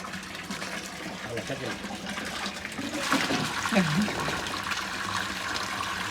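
Water runs steadily into pots with a continuous rushing, filling sound, while voices talk faintly in the background.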